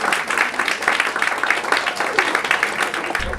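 Loud, dense audience applause fills an open-mic poetry night as a poet takes the stage, steady and close throughout with possible faint voices mixed into the clapping.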